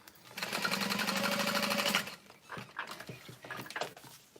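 A sewing machine backstitches over tote bag strap connectors in a rapid, even whirring burst lasting about two seconds, then stops; a dog whimpers and pants nearby afterward.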